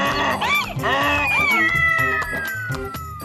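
A cartoon cat meows in a Hindi animated children's story, its repeated rising-falling cries standing out loud against a backing music bed with steady rhythmic beats.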